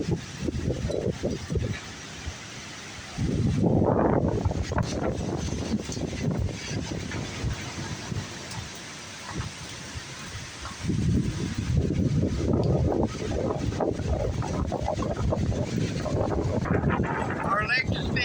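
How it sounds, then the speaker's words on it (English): Strong storm wind roars through trees surrounding a home. It is a steady broadband rush with two louder surging gusts and a voice faintly under it. "listen at that wind. We're surrounded by trees."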